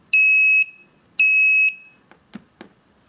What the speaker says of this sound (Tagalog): backup horn